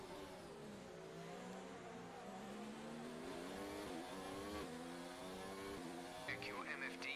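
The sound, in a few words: race car engine, from the video game F1 2019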